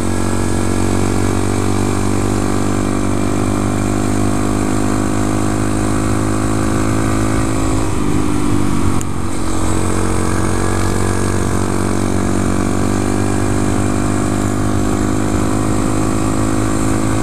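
A 2014 Honda Grom motorcycle on a road gives a steady, loud engine drone with a constant low hum for the whole stretch, with only a brief dip partway through and no voices.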